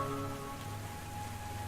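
Steady, soft patter of light video game rain falling, a continuous gentle hiss with faint tonal hum underneath, no voices.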